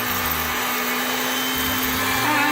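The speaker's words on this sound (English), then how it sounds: "it's time to use our handy dandy immersion blender" An immersion blender whirs steadily through hot berry jam, a loud close motor drone that holds for the whole stretch with no voices.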